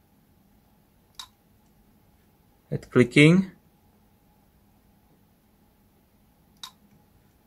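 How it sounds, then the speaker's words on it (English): A Pioneer PD-S503 CD player with a fault gives a few faint isolated clicks spaced several seconds apart in a quiet room, with a brief spoken word between them. "clicking sound, nothing happens"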